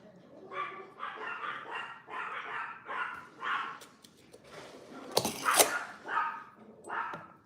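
A dog barks repeatedly in short bursts at a passing motorbike, moderately close, with a louder sharper outburst near the end, all over a voice talking in the background.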